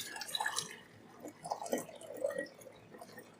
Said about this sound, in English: I'm going to pour my hot water into our jar.